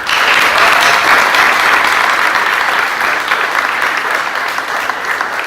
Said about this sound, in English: for whom I ask you to give a big round of applause